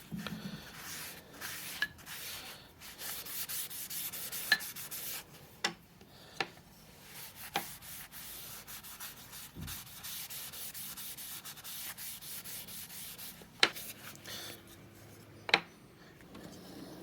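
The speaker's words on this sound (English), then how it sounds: "I'm going to apply some butcher block oil, food safe." Food-safe butcher block oil being rubbed onto poplar wood with a cloth, a soft close scratchy rubbing that comes in repeated strokes, punctuated by a few sharp taps and knocks.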